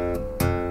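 Guitar strings are hammered on from high above the fretboard, giving a sustained ringing note with one sharp percussive tap that thickens the tone partway through, heard up close.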